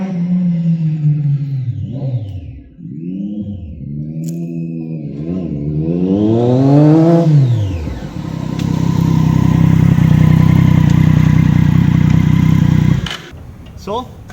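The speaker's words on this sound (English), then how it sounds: "here we have the bike, and I have Sadi riding it around all day" A Triumph Daytona 675R with a 675cc inline three-cylinder engine is ridden past, its engine note rising and falling through revs before settling into a loud, steady drone and then cutting off.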